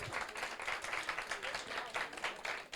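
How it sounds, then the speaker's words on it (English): Faint applause rises for award winners at a ceremony, scattered clapping from a modest crowd that pulses unevenly and sounds distant and quiet. "Can we have a round of applause for all our award winners?"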